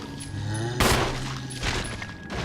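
Gunfire from a handgun aimed at a zombie in the survival horror game Resident Evil HD: one sharp, loud shot cracks out midway, a second follows near the end, both over a low, droning ambient backdrop.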